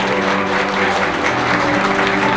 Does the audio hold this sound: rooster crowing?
no